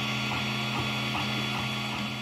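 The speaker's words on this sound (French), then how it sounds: "Retour sur l'imprimante 3D." A running 3D printer hums steadily with a constant motor whine and soft rhythmic mechanical ticks from its moving head, close and continuous with no talk.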